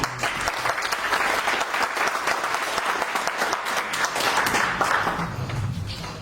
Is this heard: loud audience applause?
yes